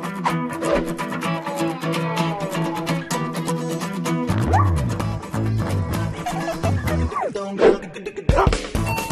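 A dog barks repeatedly in quick, yappy bursts, mixed with whimpers and excited yips amid background music.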